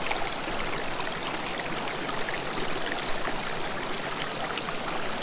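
Steady creek water rushes and trickles over rocks nearby at a constant, even level, with no talking.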